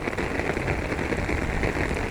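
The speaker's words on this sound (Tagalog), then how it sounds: "Ayan, ang lakas ng ulan." A steady wash of heavy outdoor rain hisses continuously at close range, dense and even throughout, with no voices over it.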